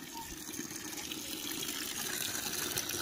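Water gushes steadily into a container at a village home, a dense continuous rush that holds even throughout with no voices.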